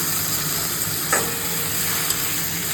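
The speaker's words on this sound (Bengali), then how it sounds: "পেঁয়াজটা ভাজছে আর এদিকে ভাত আমার হয়ে এসেছে" Onion frying in a pan gives a steady, close sizzling hiss that runs throughout, with a brief scrape of stirring partway through and no voices.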